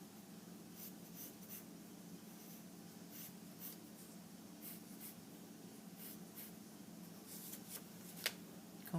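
A big marker drawn across a board to sketch three small pieces of wood as steps, giving steady faint squeaky strokes in a quiet room with no talking.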